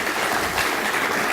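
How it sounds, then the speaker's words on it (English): A conference audience applauds as a keynote speaker, a regional official of the U.S. Department of Health and Human Services, is welcomed; steady dense clapping fills the whole short stretch at an even level. "Let's give him a round of applause."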